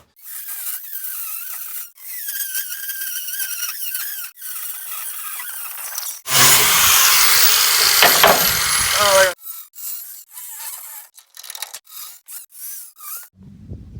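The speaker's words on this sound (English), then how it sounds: "we got the grinder all set up." An angle grinder cuts brackets off the frame of a Duramax truck, with a loud harsh burst of grinding lasting a few seconds. Quieter squeaky, rubbing shop sounds come before and after it.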